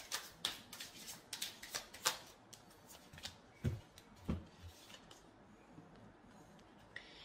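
Tarot cards are shuffled and drawn with a quick series of soft, close riffling snaps and flicks that give way to a few sparse card taps, faint and without talk.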